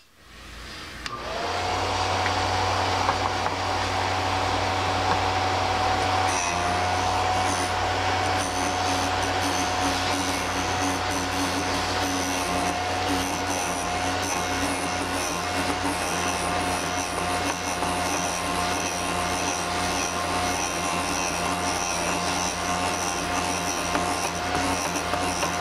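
A Vevor drill bit sharpener grinding a drill bit, a motor whirring up quickly then holding a steady loud high-pitched whine with a constant grinding buzz, close and continuous for the whole stretch.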